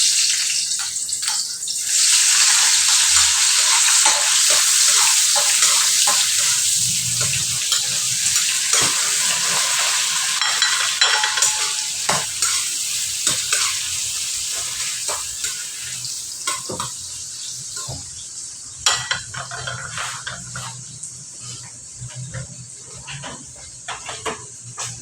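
Fern (pako) adobo sizzles in a pan, a loud continuous hiss of frying with intermittent stirring clinks and scrapes, close up and steady.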